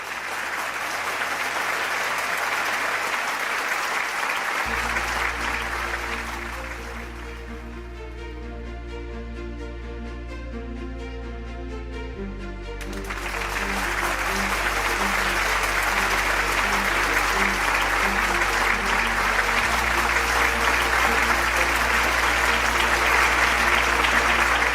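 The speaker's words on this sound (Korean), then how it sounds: "큰 박수로 우리 두 분의 효정 증거를 만나보도록 하겠습니다" Sustained applause from a large audience at a peace festival fills the whole stretch, a steady dense clatter of clapping with a low musical drone underneath.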